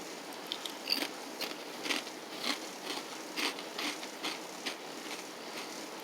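Crunchy bites into Ruffles Baked Flamin' Hot potato chips, a series of sharp, close crackling crunches repeating every half second or so, with no talk.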